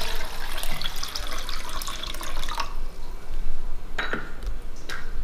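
Water poured and dripping into a container while mixing a summer drink of butterfly pea flower, lemon and sugar in a home kitchen; steady close splashing with a few louder drips near the end, no talk.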